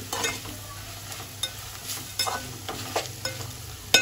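A spoon scrapes and stirs bitter gourd fry in a hot pan, with repeated rhythmic strokes over a soft, continuous sizzle, close and fairly loud.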